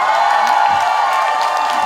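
A festival concert crowd claps and cheers loudly, a dense wash of applause with scattered whoops and shouts.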